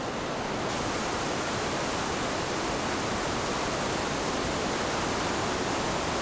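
Powerful rumbling wash of Victoria Falls, huge volumes of water pouring down in a constant, loud, broadband roar that stays even from start to finish, with nothing else audible.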